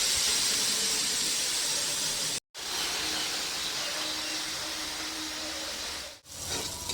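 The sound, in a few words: spices with salt, turmeric, ginger, cumin sautéing in a pan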